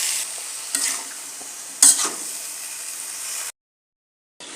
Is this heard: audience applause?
no